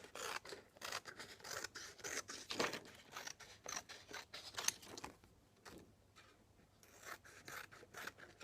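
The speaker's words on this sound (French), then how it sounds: "Vous venez découper le contour." Scissors snip around a paper outline while decorating a travel mug, a quiet, close series of rhythmic rasping cuts with short pauses.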